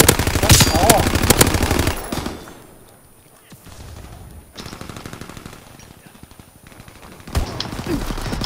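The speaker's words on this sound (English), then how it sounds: "They're all using rapid fire bullets." Rapid automatic gunfire in the World War II shooter Call of Duty: WWII, loud dense bursts that open and close the stretch, with quieter scattered shots and a voice talking over the middle.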